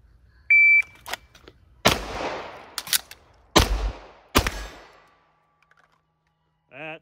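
Sharp pistol shots from a Tisas 1911 Night Stalker DS9, about four cracks with a short reload pause between the first and the rest, preceded by a timer beep and ending with a brief electronic tone.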